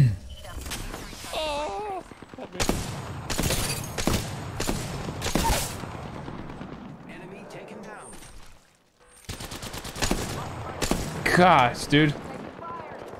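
Gunfire in the Apex Legends video game, several loud bursts of shots in quick succession with a short lull before another volley, heard under excited talk between players.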